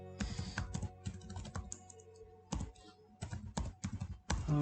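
A formula typed on a computer keyboard, with bursts of close, crisp key taps separated by short pauses.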